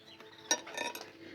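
A frying pangas fish is flipped in a pan, heard as a few quick metallic clinks and scrapes of a utensil against the pan over a faint background hiss, with no voices.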